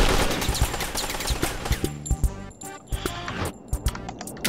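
Video game gunfire at a terrorist target, sounding as a loud, busy string of gunshot bursts and fusillade-like cracks over a steady game backdrop.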